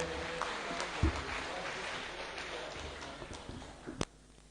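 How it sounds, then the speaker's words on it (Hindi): An audience at a saints' gathering in Ayodhya claps to welcome Guru Ramanandacharya Swami Ramanandas Ji Maharaj. The applause is steady, moderate and somewhat distant, with a few sharper claps before it thins out at the end. "हम सब लोग ताली बजा करके महाराज श्री का स्वागत करेंगे"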